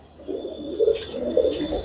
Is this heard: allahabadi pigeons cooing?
yes